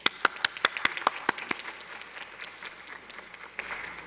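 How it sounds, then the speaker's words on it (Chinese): A burst of clapping fills Taiwan's Legislative Yuan chamber as lawmakers welcome the premier's new cabinet on its first visit. The claps are fairly sparse and crisp at first, then thin out within a couple of seconds into quiet room murmur. "我们掌声跟他鼓励一下，好吧？"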